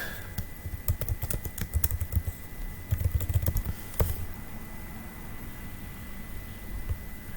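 Rapid, uneven bursts of keystrokes on a computer keyboard as a name is typed into pipeline software, close and fairly quiet, with clusters of clicks separated by pauses and a louder single tap near the middle.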